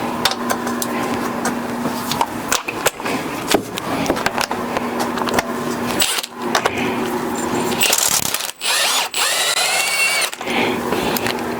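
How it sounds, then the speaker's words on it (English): A power impact wrench working the bolts on a Yamaha Warrior 350 ATV: a loud, steady motorized whine that runs in long stretches, broken by brief pauses and short stop-start bursts, close to the ear. "Now these I would do with an impact because they're bolts."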